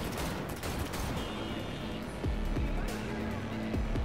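A car-chase shootout in Cyberpunk brings rapid bursts of gunfire over a rumbling engine, with a few sharper shots punching through near the end, partly under a character's tense voice.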